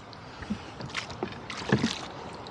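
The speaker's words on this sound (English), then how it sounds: "still rowing mostly against a pretty stiff wind" Oars knock and splash in scattered strokes as a rowboat crosses choppy water on Lake Hennessey against a stiff wind, rushing steadily across the microphone close by.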